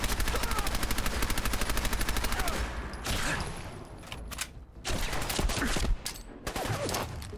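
Rapid bursts of automatic gunfire and fusillades from the video game Fallout 4, dense and loud throughout, with sharper separate shots and short pauses in the second half.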